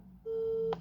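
A single short electronic phone ring tone sounds once, steady and clear, over faint background hum.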